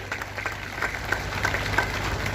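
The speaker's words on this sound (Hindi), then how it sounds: "सरदार बलदेव सिंह सिरसा जी के लिए भी एक बार जोरदार ताली बजा दी जाए" Clapping from a rally crowd in a hall, a steady patter of many hands with a few sharper claps standing out, fairly soft and continuous with no talking over it.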